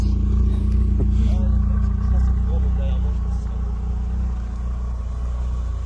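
BMW M3 E30 convertible driving, its engine giving a steady, loud low rumble throughout, with people talking over it.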